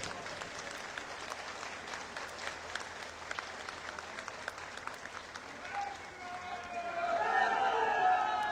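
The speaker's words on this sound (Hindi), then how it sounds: "जोरदार ताली के साथ।" A crowd in a hall at a political gathering welcoming the BJP state president claps steadily, the applause swelling louder toward the end, with voices and shouting mixed in.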